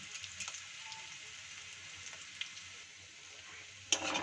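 Sliced ginger and garlic fry in a pan, giving a faint, thin sizzle with soft scattered crackles and a sharper clink near the end.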